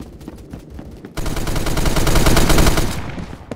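Rapid automatic gunfire in the Roblox shooter Phantom Forces, a dense continuous burst that starts abruptly after quieter game sounds, swells, then fades out after about two seconds.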